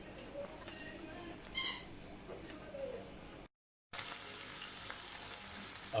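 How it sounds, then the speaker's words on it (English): Onion sizzling in hot oil for a mutton mince curry, a steady close frying hiss with a few louder crackles and a brief drop to silence midway. "I've tossed in the onion just to fry a bit till it's a bit translucent"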